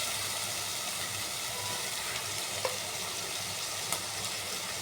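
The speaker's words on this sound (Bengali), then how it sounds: "চিকেনটাকে আমি একটু ভাজা করব। লবণ দিব, এখন লবণ দিব একটু, আর সয়া সস দিলাম" Chicken frying in a pan with salt, soy sauce and tomato sauce, giving a steady, even sizzle throughout with a couple of faint clinks.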